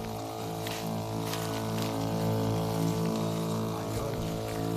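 An agricultural sprayer with a long spray rod runs on a farm, its pump engine giving a steady tonal drone under a hissing, pouring rush of spray, constant and close.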